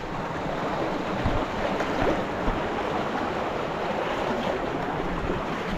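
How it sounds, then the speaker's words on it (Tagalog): Flood-swollen river water rushing steadily, a dense continuous roar of flowing water with wind noise, loud and close without pause. "Ang laki ng tubig."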